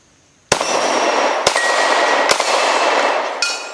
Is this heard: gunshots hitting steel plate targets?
yes